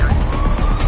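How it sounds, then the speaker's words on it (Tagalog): An ambulance siren is on its way, heard as a loud, steady wailing tone that sweeps through its pitch over a rumbling background and plays alone without speech. "Paparating na yung ambulansya para dalhin kayo sa COVID facility."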